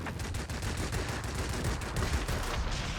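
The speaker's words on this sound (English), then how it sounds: "We're going to shoot up some of the ground targets here" Rapid bursts of aircraft gunfire strafing ground targets in World of Warplanes, a Typhoon fighter's guns firing in dense, continuous staccato volleys that stay loud and close throughout.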